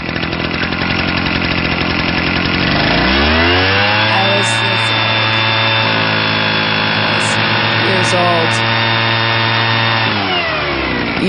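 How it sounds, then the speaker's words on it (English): A leaf blower starts up and roars steadily, a loud droning motor whine that rises in pitch after a few seconds, holds a high steady tone, then winds down near the end. "I'll tell you while I play this leaf blower sound effect."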